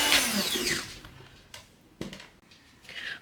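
Electric mixer beating lard and sugar for bizcochito dough, a loud whirring drone that fades and resumes in short bursts.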